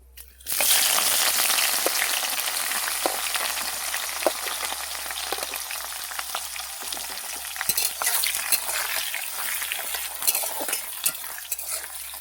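Cumin seeds and onions hit hot oil and sizzle loudly and continuously, with faint crackles and occasional spoon taps over a low hum, no talking.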